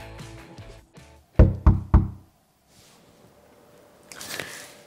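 Three firm, evenly spaced knocks on a door, loud and close, preceded by softer rustling and followed by quiet room tone and a faint brushing noise.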